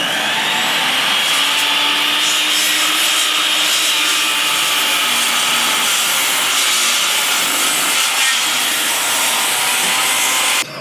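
A saw cuts through a smaller wooden deck beam on a job site, a loud continuous grinding whine that holds steady for about ten seconds before cutting off abruptly at the end, with no talk.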